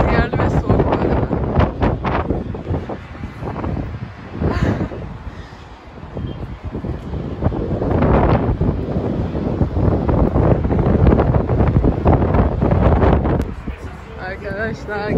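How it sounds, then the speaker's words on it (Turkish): Strong gusts of cold wind at a high viewpoint in Ankara buffet the microphone in loud, rumbling bursts, rising and falling throughout, with a person talking over the roar. "Bayağı rüzgarlı ve soğuk bu arada."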